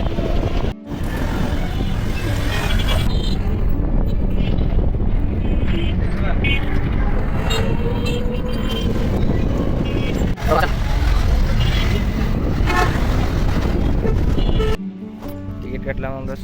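Riding a rickshaw through street traffic, with continuous loud wind buffeting and road rumble, passing vehicle noise and voices talking nearby throughout.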